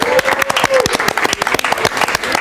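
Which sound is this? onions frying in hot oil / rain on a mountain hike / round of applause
round of applause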